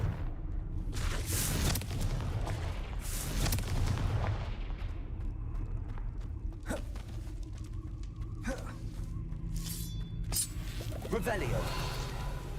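Confringo blasting spells explode in Hogwarts Legacy, with several booming blasts and rumbling bursts over a steady game background, loud and close, while a voice talks over them.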